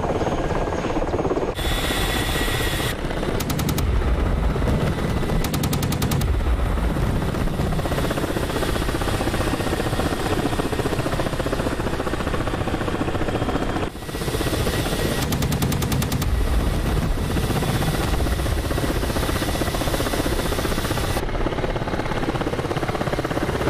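A Kamov attack helicopter in DCS drones with loud, steady rotor and engine noise throughout, broken by bursts of rapid cannon fire that start and stop several times.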